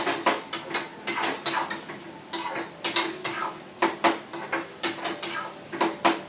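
A utensil scrapes and clanks rhythmically against a pan as cumin powder is stirred into the food, about two strokes a second with sharp metallic hits, close and clear with no talking.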